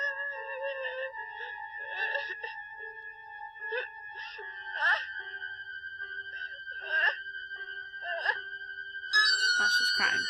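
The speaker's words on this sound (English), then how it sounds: "Oh, she's crying." A woman in a Halloween horror film sobs and wails in broken, quavering bursts, close and fairly quiet, rising into a sharper, louder cry near the end.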